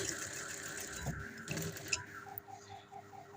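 A sewing machine stitching the folded neckline of a garment, its motor whirring in short uneven bursts with small mechanical ticks, fairly quiet and close.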